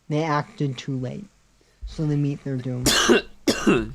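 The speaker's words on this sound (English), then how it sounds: "And now the last cough." A sharp, noisy cough bursts out twice near the end, loud and close, following a stretch of someone talking.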